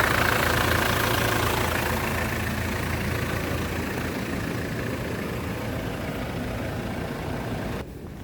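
A 2008 Hyundai Porter 2 truck with a 2.5-litre imported engine idles at a car market, a steady low rumbling drone heard close and continuous, with a slight drop in level near the end.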